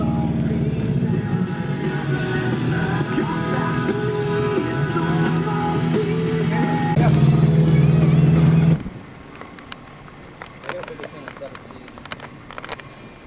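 A car engine runs steadily in what may be a video game, with a droning, slightly wavering tone that swells before cutting off sharply, leaving quieter scattered sounds. Voices talk over the engine.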